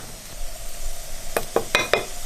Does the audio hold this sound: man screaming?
no